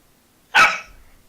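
A single sharp, loud dog bark rings out close by, then fades against quiet.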